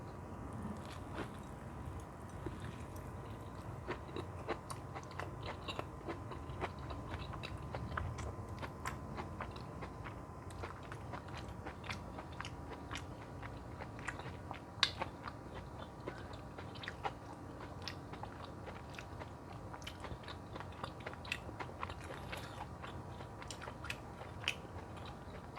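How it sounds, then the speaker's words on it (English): Cooked squash is chewed and bitten close up, with many sharp, crisp crunches and wet chewing clicks in an irregular rhythm over a low, quiet background hum throughout. "It's actually pretty amazing for me to be sitting here eating a plate of squash."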